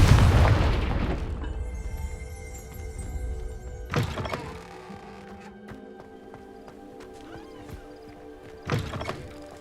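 A Confringo fire spell explodes in the Hogwarts Legacy video game, a loud booming blast at the start that fades out, followed by two sharper thumping impacts amid soft game ambience.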